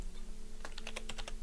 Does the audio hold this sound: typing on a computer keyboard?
yes